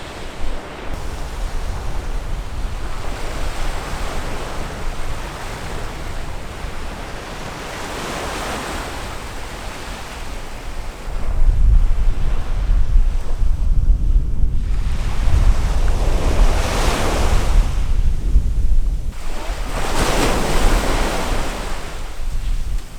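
Ocean waves breaking at high tide on the Normandy shore of the Cotentin Peninsula, a continuous loud surf roar that swells in repeated surges, with wind rumble on the microphone and no talking.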